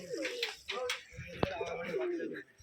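Rajshahi Giribaz pigeons at a pigeon farm coo softly in low, rolling calls, with a brief sharp click midway and a voice speaking in the background.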